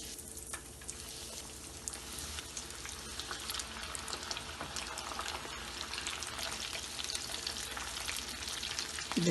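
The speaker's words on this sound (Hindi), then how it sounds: "देखिए, तेल हमारा गर्म हो गया। अब हम इसको फ्राई करेंगे।" Breaded chicken drumsticks coated in crumbs and sesame fry in hot oil, a constant crackling sizzle with dense bubbling pops, moderately quiet and steady with no voices.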